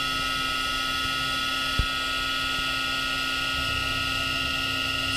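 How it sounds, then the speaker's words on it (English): A 5-axis CNC mill running a finish pass on an aluminum GoPro case back, a steady high-pitched spindle whine with tonal hum underneath, continuous and close, with one sharp click partway through. "Here I actually re-ran the finish pass of the tool, trying it again at on the spindle's face."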